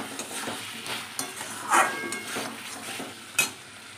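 A curry is sautéed in a pan with a soft continuous sizzle broken by several scraping and stirring strokes of a spatula, plus a couple of sharper metallic knocks, close up with no speech.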